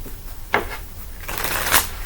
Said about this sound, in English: Need to shuffle that one more time.